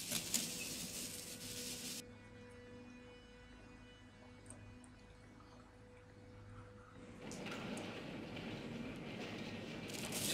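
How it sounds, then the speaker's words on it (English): Trains rumble past in the Cry of Fear horror video game, a loud broadband rush at the start that drops to a low hum and tonal whine, then swells again as another passes. "What the hell's running these trains?"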